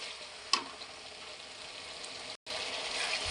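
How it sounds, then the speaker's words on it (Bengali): Chopped tomatoes cook down in oily masala for a potato dish, a constant close sizzle with one sharp clink and a momentary cut. "মশলাটাতে যতক্ষণ তেলটা না ছাড়ে তো কষতে থাকবে মশলাটা ভালো করে কষতে হবে"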